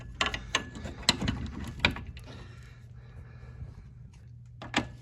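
Ratchet snugging a front strut bolt on a 1996 Oldsmobile Cutlass Ciera, a series of sharp clicking pawl strokes in short bursts, fairly quiet and near, with a pause before a final click.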